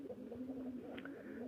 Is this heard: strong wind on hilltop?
no